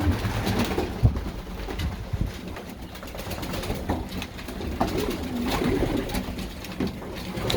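Domestic pigeons in a loft coo repeatedly while begging for food, a soft continuous murmur of overlapping calls with occasional wing flutters and shuffling, steady at moderate level with no talk.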